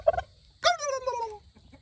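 A male turkey on a farm lets out a short call, then a loud, rattling gobble that trails off, close by, with no talking.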